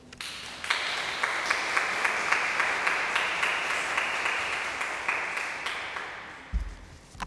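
An audience welcomes Dr. Ed Hogan with sustained, even applause from a roomful of people, steady throughout before tapering off near the end.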